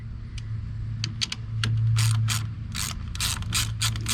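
A small ratchet wrench tightens down a fuel injector, a series of quick clicking ratchet bursts in uneven groups, close and clear over a low steady hum.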